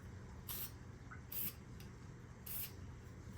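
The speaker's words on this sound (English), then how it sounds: "a little spray paint, because why not?" Three short, soft bursts of hissing spray from a spray paint can, aimed onto a wet fluid art funnel pour. They come at a steady spacing over a faint background hum.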